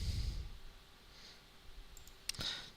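A single sharp mouse click on an OK button in Android Studio, sounding once near the end of a quiet stretch of faint room noise.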